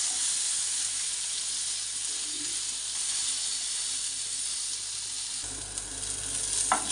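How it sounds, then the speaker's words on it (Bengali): Three pieces of rohu fish fry crisp in hot oil, a steady, loud sizzle that fills the whole stretch without pause, with a faint clink near the end. "3 পিস কড়া করে একটু ভেজে নেব"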